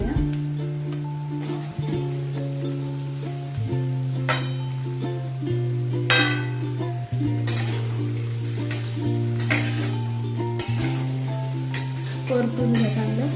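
Potatoes being stir-fried in a pan for sabudana khichdi, a loud close sizzle with repeated scraping and clinks of a spatula against the metal, a steady hum running underneath.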